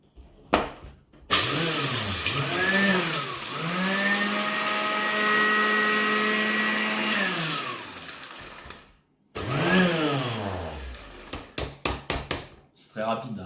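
Kitchen blender grinding hand-crushed eggshells, a loud sustained whirring motor run of several seconds with rising and falling pitch at start and stop, then a second shorter burst followed by rattling knocks.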